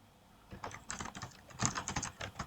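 Quick, light clicking of fingers typing on a computer keyboard, a short irregular burst of keystrokes heard close up.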